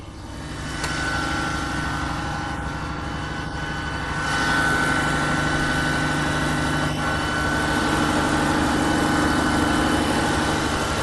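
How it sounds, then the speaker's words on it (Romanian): A six-cylinder inline cogeneration engine with its generator runs steadily in a hotel boiler room in Predeal, a dense, continuous low hum and drone that grows a little louder partway through. "Pentru a ne face o idee reală despre ce zgomot face motorul"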